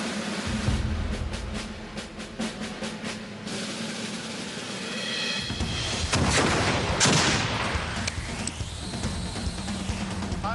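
Replica medieval cannon fired outdoors at a historical demonstration, a sharp close blast with a long rumbling tail and echo, followed by a lingering whoosh and crackle.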